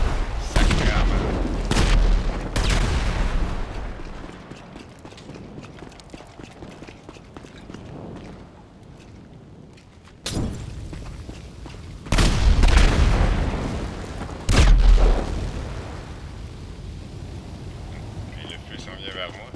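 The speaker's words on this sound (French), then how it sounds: "on va faire sauter le toit. Histoire de faire des belles explosions." Explosions blow the roof off a building in a first-person shooter set in a town, with several heavy booming blasts spaced seconds apart over a steady roar of game noise and rumble.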